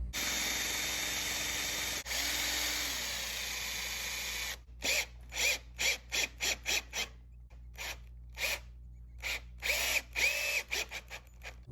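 A power drill drives screws into the joints of a wooden coffee table, first one long steady whine, then a quick series of short bursts with brief pauses, close and fairly loud.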